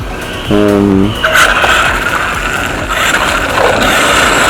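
A Pokémon Mater RC car on drift tires running outdoors, its small motor whining steadily while the tires hiss and squeal in skids, loud and close, with a brief low mechanical buzz early on.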